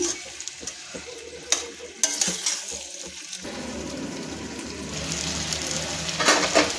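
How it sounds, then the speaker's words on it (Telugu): Drumstick (moringa) pieces cook in hot oil in a pan for a drumstick curry, heard as a close, continuous sizzle that grows denser midway, with a few stirring knocks and scrapes early on. "ములక్కాడ కూడా కొంచెంసేపు నూనెలో మగ్గనిస్తే బాగుంటుంది."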